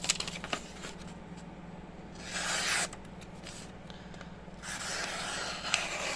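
A Benchmade 200 Puukko knife slices through a sheet of paper, producing two quiet, raspy swishes of cutting against a soft background.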